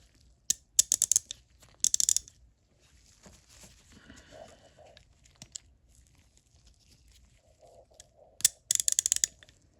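Harbor Freight Pittsburgh Pro composite teardrop ratchet, reassembled after a full teardown, ratcheting in several short, close bursts of crisp clicking near the start and end, with quieter handling noises in between.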